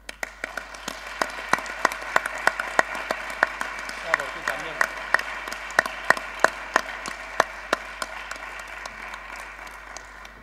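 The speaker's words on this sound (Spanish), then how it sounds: "Pido un aplauso para todos ellos." Applause at the closing of a conference day on the SIELE Spanish exam, a soft wash of many hands with sharp individual claps standing out near the microphone, steady for about ten seconds with voices underneath.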